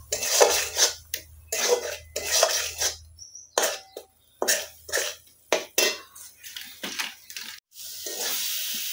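Spiced Bengali masala fries in a pan while a spatula stirs it in repeated loud, close scraping strokes with short pauses, over a faint sizzle.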